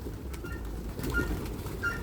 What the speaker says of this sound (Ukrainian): Голубів так багато.